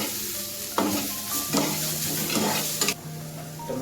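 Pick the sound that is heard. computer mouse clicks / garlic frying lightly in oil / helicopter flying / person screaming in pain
garlic frying lightly in oil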